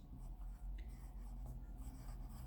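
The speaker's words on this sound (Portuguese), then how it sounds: "Eu vou escrever aqui" Chalk or marker scratches across a board in short strokes, faint and close, over a low steady room hum, with no voices.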